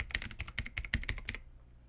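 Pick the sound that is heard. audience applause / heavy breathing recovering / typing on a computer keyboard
typing on a computer keyboard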